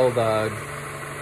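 A Honda Accord engine runs at a rough idle as a steady, mid-pitched hum close by, with someone briefly talking over the start.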